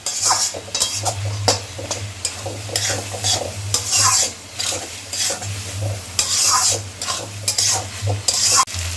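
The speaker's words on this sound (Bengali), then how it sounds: "দিয়ে ভালো করে সসের সাথে চিকেন, কর্ন আর ডিমের সাথে যে ভেজিটেবলস আছে সেগুলো মিশিয়ে নিলাম।" Chicken, corn, egg and vegetables stir-fried with tomato sauce for Hakka noodles. A steady sizzle runs throughout, with repeated scraping and clinking of a spatula against the pan, close and fairly loud, and a low hum underneath.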